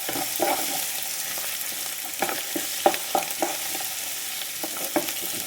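Half-fried garlic and chopped ginger sizzle in a pan for rambutan pickle, a dense steady frying hiss with scattered soft knocks and scrapes of a spoon stirring through it.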